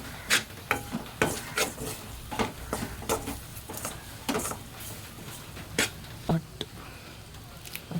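Chili powder and coriander roast in a pan over a low flame in a home kitchen, a spoon scraping and stirring in short irregular strokes against a soft sizzle.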